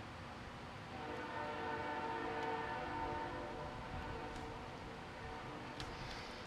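A train horn sounds one long, sustained blast with steady layered tones, moderately loud and somewhat distant, over a constant rumble of rail noise and no voices.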